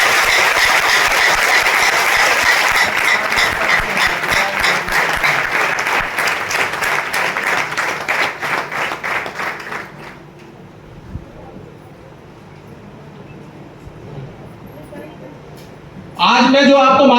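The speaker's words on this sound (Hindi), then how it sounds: "जोरदार ताली" Loud, dense applause from a business meeting audience at a Meerut chamber of commerce hall, sustained for about ten seconds before fading to quiet room tone, with a brief burst of sound returning at the end.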